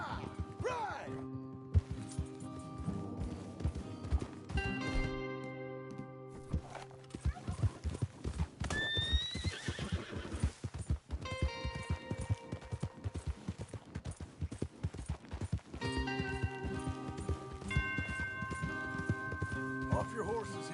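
Horses gallop in the Red Dead Redemption video game, with clip-clopping hooves, occasional whinnies and clattering throughout, loud and continuous while people talk over them.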